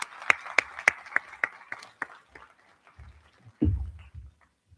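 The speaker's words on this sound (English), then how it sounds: "may we have a big round of applause to Geshe La" A small audience gives Geshe La a short scattered round of applause, a few sharp claps that thin out and fade within seconds, followed by faint low murmuring and a brief thump.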